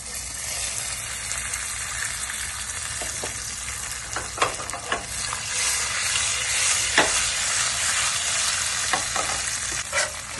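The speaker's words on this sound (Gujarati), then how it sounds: "પછી એની અંદર નાખશું મરચાં, લસણ. પછી એની અંદર જશે કાજુ, કિસમિસ." Chillies, garlic, cashews and raisins sizzle loudly in a hot tempering, a steady crackling hiss close up with stirring scrapes and occasional sharp pops, no voices.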